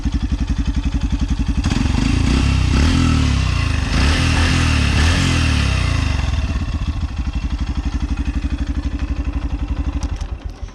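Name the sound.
motorcycle engine running through silencer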